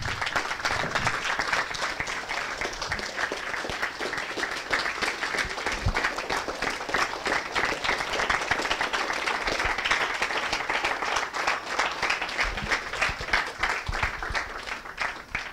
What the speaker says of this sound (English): Let's give the Most High a round of applause.